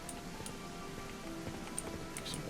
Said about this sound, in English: That's a heavy downpour right there.